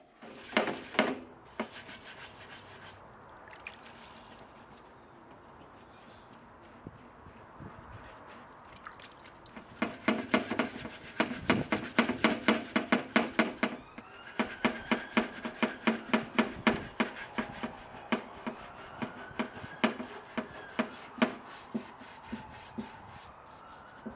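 Scraping at multiple coats of paint on a Yamaha R6 motorcycle tank: soft, irregular rasping strokes that are faint at first, then grow into a steady run of short, close scrapes.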